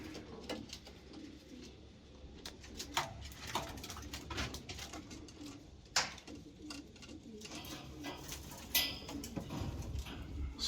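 Pigeons coo softly and repeatedly in a loft, low throaty calls running through the whole stretch alongside scattered ticks, wing flutters and shuffling, fairly quiet and close.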